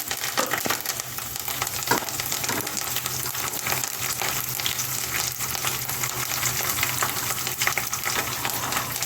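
Curry leaves hitting hot oil in a pan give a loud, steady frying sizzle with crackling and spitting that runs throughout, with no talk over it.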